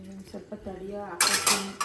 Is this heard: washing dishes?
yes